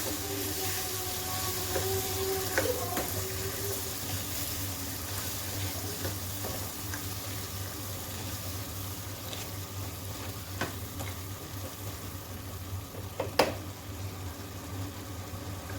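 Chickpea paste being added and stirred in a frying pan for Lahori black pepper chickpeas, a steady sizzle with scraping stirs and a sharp clink near the end, no talking.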